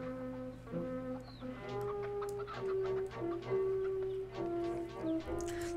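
A hen clucks repeatedly in a Bolivian film, a series of short rising and falling calls at moderate distance, fairly faint, with no talk over them.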